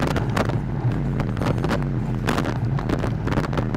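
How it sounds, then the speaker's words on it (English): Strong headwind buffeting the microphone during a cycling race ride in Northern California, a steady rumbling low roar with gusty thumps throughout, no talk. "Headwind is really strong."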